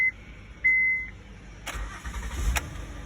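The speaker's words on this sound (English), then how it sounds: "Car starts right up." A Honda car gives a short high beep, then a longer one, before the engine cranks and catches, settling into a steady idle with a brief surge in revs.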